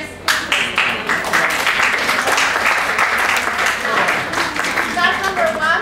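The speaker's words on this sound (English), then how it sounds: "Shall we clap our friends?" Students in a classroom applaud their classmates with steady, dense clapping that runs throughout, with voices mixed in among the claps.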